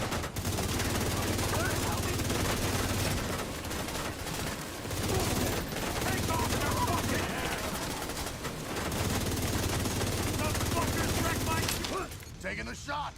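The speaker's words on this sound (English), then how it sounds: "Minigun power restored." Video game minigun and gunfire roaring almost continuously at high level, sustained rapid bursts with short gaps, heavy and close, with no clear speech.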